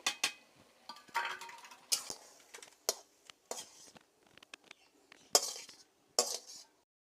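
Shrimp being stirred in a pan with a utensil, a string of sharp metallic scrapes and clinks at an irregular pace between short quiet gaps, close and fairly soft.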